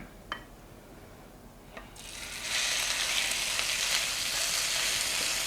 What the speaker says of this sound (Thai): หลังจากที่เราตำเครื่องต่างๆและเนื้อปลาเสร็จเรียบร้อยเราก็จะนำมาผัดน้ำมันโดยที่ใส่เครื่องลงไปก่อน